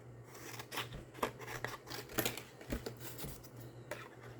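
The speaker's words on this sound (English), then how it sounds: "And let's cut this paper down." Small scissors or a paper trimmer snipping through cardstock in a series of quick, close, crisp cuts over a low steady hum, with no speech.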